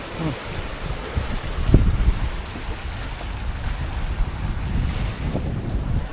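Wind buffets the microphone in a constant low rumble, with water washing around a moving sailboat underneath, running before a following wind on calm open sea.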